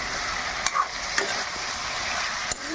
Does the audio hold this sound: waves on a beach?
no